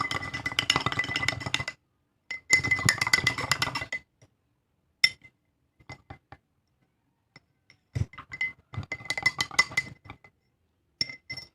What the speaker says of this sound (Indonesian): Lalu kita kocok secara konstan.